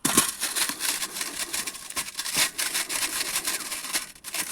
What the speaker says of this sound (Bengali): এইভাবে ঘষে নেবে তালটা।